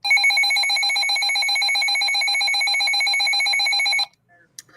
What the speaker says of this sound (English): this tests the warning siren of the radio